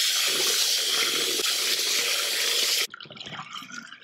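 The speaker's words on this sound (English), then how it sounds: "I'm gonna rinse them till the water runs clear." Tap water runs strongly into a sink while vintage Rushton teddy bear parts are rinsed, a steady loud splashing gush that cuts off abruptly near the end, leaving quieter dripping and handling.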